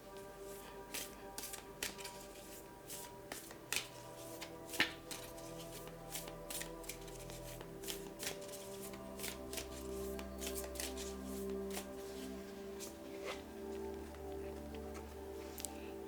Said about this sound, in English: I will now draw a Moonology card to see what signs and messages the moon wants to communicate with you